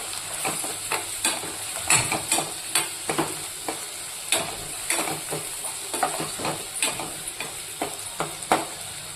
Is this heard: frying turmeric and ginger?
yes